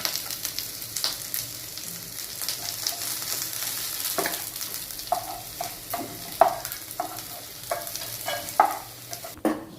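Sliced onion sautés in a pan alongside coconut for a shevla (dragon stalk yam) vegetable dish, giving a steady, close sizzle with scattered scraping stirs that grow more frequent toward the end, and no voices.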